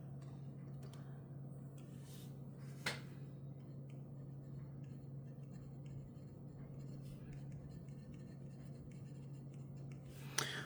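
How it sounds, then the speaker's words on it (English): A fountain pen loaded with Noodler's Habanero ink scratches softly across paper while a name is written, a faint, steady scribble under a constant low hum, with two brief clicks. "Going to go ahead and write the name on here."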